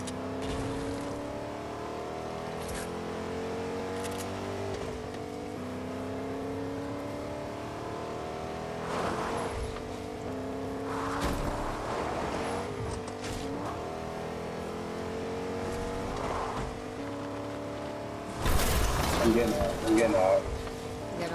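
A vehicle is driven in Fortnite with a steady engine drone that rises and falls in pitch as it revs and shifts. Bumps and knocks punctuate it, and people talk over it throughout.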